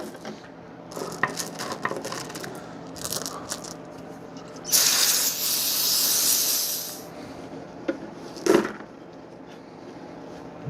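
An aerosol can of brake cleaner sprays onto wheel rim bolts in a short, loud hissing burst of about two seconds, with small metallic clinks and rattles of the bolts before and after.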